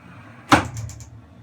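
A sliding shower screen door runs along its rollers in one quick, close movement: a single short swish with a light knock, then quiet.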